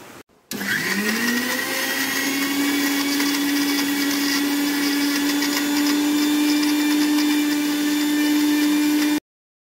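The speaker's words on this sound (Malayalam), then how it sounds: "ജാറിലിട്ട എല്ലാ ഇൻഗ്രീഡിയൻസും ബ്ലെൻഡ് ചെയ്തു." A kitchen blender grinds a spice paste with salt in its jar, starting abruptly and holding a loud, steady motor whine for about nine seconds before cutting off.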